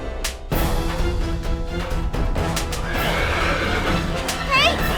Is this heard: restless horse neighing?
yes